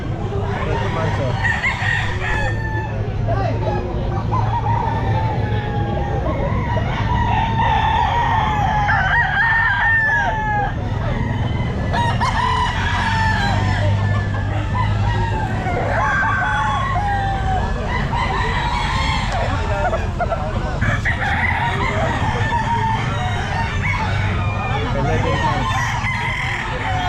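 Chickens and roosters crow and cluck over one another at a busy pet market, the calls loud and near and repeating throughout, with a constant crowd murmur and occasional voices underneath.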